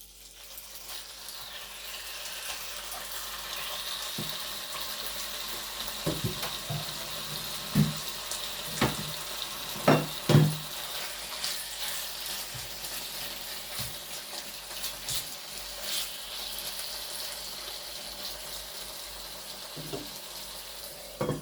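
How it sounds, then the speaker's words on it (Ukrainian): Meat sizzling in a frying pan with garlic already added, a steady crackling fry with occasional louder pops and spatters, close and moderately loud, with no talking. "я вже чесночок кинув і зараз кидаю м'ясо"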